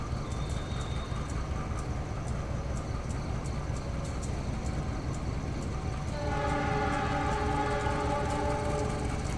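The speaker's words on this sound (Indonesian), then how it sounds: "Dari arah timur berjalan langsung kereta api Turangga" The Turangga passenger train rumbles past steadily at close range at night beside the Cimanuk River gorge, its loud rolling clatter filling the whole stretch, with brighter metallic wheel tones rising toward the end.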